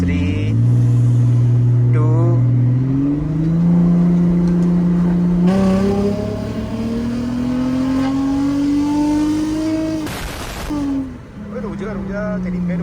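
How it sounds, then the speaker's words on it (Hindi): A turbocharged car with a manual gearbox and the AC switched off revs hard, its engine note climbing through the gears, loud and close from inside, while a man counts briefly. "मैनुअल कर देते हैं, AC को बंद कर देते हैं ताकि टर्बो चल पड़े"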